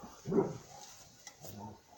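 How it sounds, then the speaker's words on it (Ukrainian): A dog barks in short, muffled bursts at a distance during missile launches near Kherson, two brief outbursts over a quiet background. "Це гавкає моя собака на виліти ракет."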